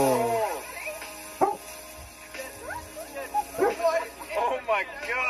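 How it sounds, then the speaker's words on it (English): Several dogs bark and yip intermittently in the background, fairly faint and mixed with voices talking and exclaiming. "I apologize for the dogs barking"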